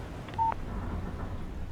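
Phone keypad tones from the Alan Wake video game: a short beep and a brief two-tone chirp close together near the start, over a low steady background hum, then quiet.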